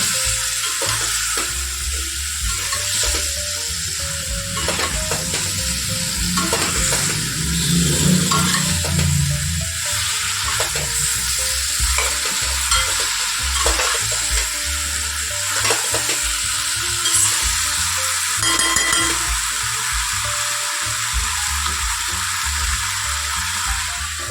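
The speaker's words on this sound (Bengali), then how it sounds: "এবার আমি ভেজে রাখা আলু আর পেঁপেগুলো এর মধ্যে দিয়ে দেব, দিয়ে ভালো করে কষিয়ে নেব।" Previously fried potatoes and papaya are stir-fried in a hot pan, giving a continuous loud sizzle with scraping and clinks from the spatula stirring throughout.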